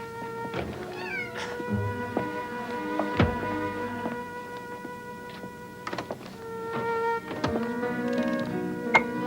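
Hungry house cats meowing close by, several distinct cries spread across the stretch with a few soft thumps and taps between them, no talking.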